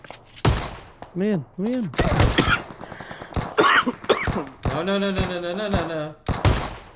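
Shotgun blasts ring out in PUBG Mobile, several sharp, loud reports spaced a second or more apart, with someone talking and reacting between shots.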